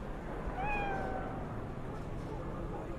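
A cat in the video game Cyberpunk 2077 gives a single clear meow, a short rising-and-falling cry heard once against a steady background hum of the game's ambience.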